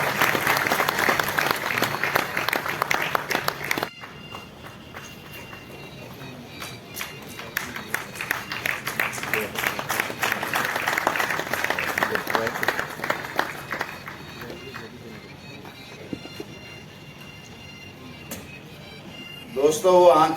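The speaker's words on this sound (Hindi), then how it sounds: "आपकी तालियां बजती रहनी चाहिए जब तक ये सम्मान मिले।" Audience applause fills an award ceremony honoring journalists at a state-level event, sustained clapping that swells, eases and picks up again, with a voice occasionally talking over it before a louder burst near the end.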